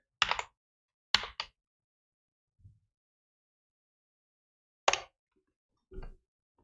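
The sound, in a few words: typing on a computer keyboard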